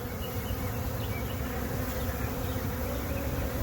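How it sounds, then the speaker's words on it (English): A honey bee swarm fanning at the hive entrance, giving a dense, steady close-up buzzing hum that stays constant and unbroken from start to finish. "They'll come down here to the entry and start fanning at the entry."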